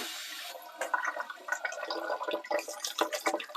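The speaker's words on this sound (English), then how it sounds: "Now I'm just going to give my hands a quick wash" Hands are rinsed under a running kitchen tap, with a steady rush of water broken by uneven splashes and sloshes as the hands move through the stream.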